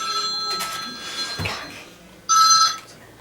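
A duty telephone in an office rings in two bursts, a bright electronic trill, with a quieter stretch and a low thump between them.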